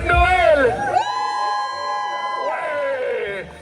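Audience cheering and whooping at a Deadpool Christmas show at Disneyland Paris, a crowd roar under amplified voice and music with sustained musical tones through the middle.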